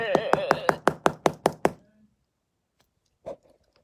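A wooden anger stick raps hard on a surface in a quick run of eight sharp knocks, then falls quiet before one last lone knock.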